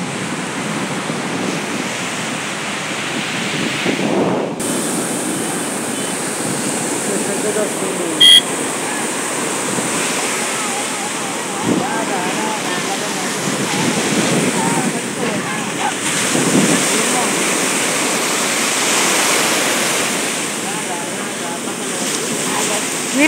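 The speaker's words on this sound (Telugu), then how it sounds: "మీ అందరికీ కూడా ఈ బీచ్ సౌండ్ బాగా నచ్చింది అని అనుకుంటున్నాను." Sea waves surging at RK Beach, Visakhapatnam, a loud steady roar of surf with wind on the microphone, swelling in a few slow pulses over a long continuous stretch without talk.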